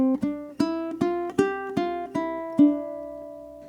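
A ukulele is strummed in a steady, even run of eighth notes, about eight crisp chord strokes ending on a held chord that rings out, close and clear with no talking.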